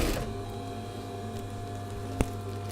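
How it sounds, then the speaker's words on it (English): An industrial sewing machine stitching a curved top seam on a shirt being made into a cape, a steady dense mechanical whir running throughout, close and loud with one brief knock near the end. "I'm going to stitch them together across the top curved seam. Now of course this is on an industrial machine"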